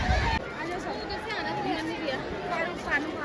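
Dense crowd of devotees at Garjiya Mata temple, a steady hubbub of overlapping voices and chatter, close and continuous throughout with no single voice standing out.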